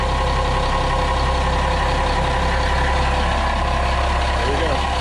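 A boat's starboard inboard engine idles steadily in the engine bay during winterizing, a continuous low mechanical drone with a fixed rhythmic pulse and no speech over it.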